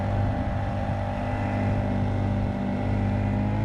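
A small Crescent K-Craft boat powered by a 50cc KB V3 drive outboard motor runs steadily, its engine droning loud and close with constant low hum, straining at moderate speed over water.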